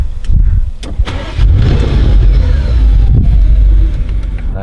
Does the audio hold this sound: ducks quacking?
no